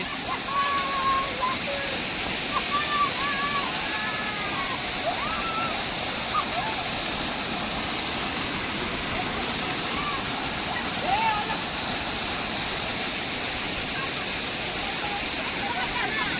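A waterfall roars in a dense, steady rush of falling water close by, with people talking and calling out over it throughout.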